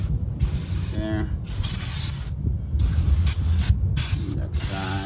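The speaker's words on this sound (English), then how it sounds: "Start spraying it. Spray everywhere that I know it's dirty." Flammable cleaner hisses from a spray can in bursts onto a dirty car engine, close and loud, with short pauses between sprays over a low rumble and brief rattling.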